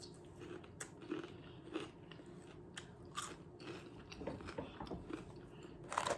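Close, quiet crunching bites of Sonic fast food being chewed, in irregular crisp bursts with soft pauses between, no speech.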